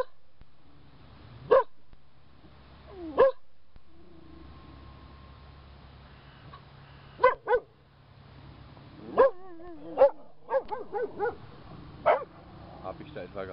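Several sharp dog barks ring out at irregular intervals, a cluster of quicker barks and yips toward the end, over a low steady rumble.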